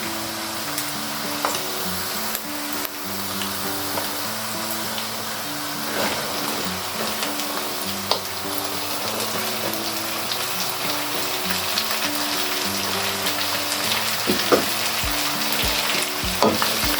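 Cubed bottle gourd and minced keema sizzle steadily in a pan, a continuous close frying hiss with occasional stirring scrapes, while music plays underneath throughout.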